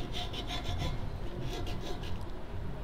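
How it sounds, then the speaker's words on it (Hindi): A screwdriver rubs and scrapes while pressing down the spider of a 10-inch speaker during repair, a close, gritty rasping in short repeated strokes with no talking. "अब हम इसको लगा देंगे और उसके बाद हम पेचकस से जो है ना स्पाइडर को अच्छे तरीके से दबा देंगे"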